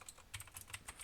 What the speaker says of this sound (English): we can just type it